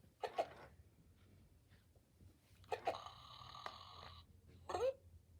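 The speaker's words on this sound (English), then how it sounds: "he's got his hiccups again" FurReal Friends Luv Cubs brown bear, a retro robotic toy, gives three separate electronic hiccups, each a short, sharp squeak with a mechanical buzz, spaced a couple of seconds apart over quiet background hum.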